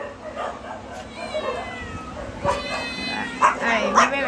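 Several cats meow and yowl close by at a shelter station, in repeated rising cries over a murmur of background noise and voices.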